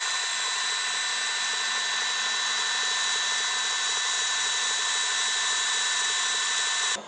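An electric mixer beats a homemade marshmallow mixture in a mixing bowl, giving a loud, steady high-pitched whine that runs without talk and cuts off at the very end.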